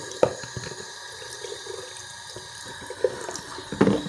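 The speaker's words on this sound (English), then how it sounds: "It takes a long time to fill." Tap water runs into the container of an automatic water drop system, a steady close-up trickle and splash with a few louder bursts near the end and no talking.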